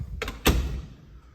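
A closet door in a loft is pulled shut with a quick rattle and then a solid thud, close by, followed by a quiet room.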